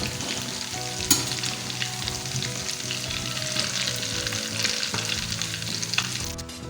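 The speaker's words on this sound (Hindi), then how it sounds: "टिक्कियाँ फ्राई हो चुकी हैं। अब हम इनको निकाल लेंगे।" Aloo tikki potato patties crackling and sizzling in hot oil, a steady close frying hiss with occasional sharp pops and clinks of the pan.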